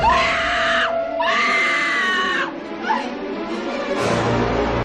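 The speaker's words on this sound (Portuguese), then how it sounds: "uma coisa que conquistou bastante o diretor foi o próprio grito da atriz" An actress screams in a horror film chase scene, two long loud sustained shrieks with a short gasp between and a rougher cry at the end, close and piercing.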